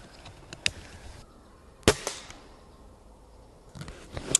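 Gamo Swarm Bone Collector Gen II airgun shooting Gamo Rocket pellets, a few sharp cracks spaced apart with one loud close shot in the middle, no talk.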